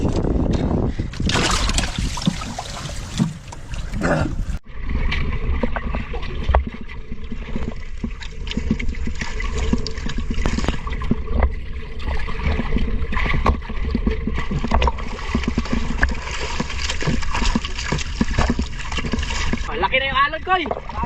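Waves splash and slap around a small fishing boat at sea, with a sharp burst early, then continuous choppy water and hull knocks, while people talk nearby.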